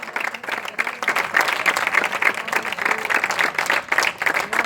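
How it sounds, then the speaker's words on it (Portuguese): A church congregation claps together in steady, dense applause, loud and close, with no voices rising above it throughout. "aplaude a Ele, dá glória a Ele"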